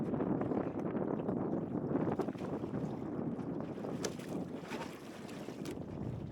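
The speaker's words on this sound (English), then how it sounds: "there's strong wind hitting this massive wall of a bottom" Strong, continuous wind roaring against the upturned hull of a capsized sailboat on open water, a dense rushing buffet with gusty swells and heavy wind noise on the microphone throughout.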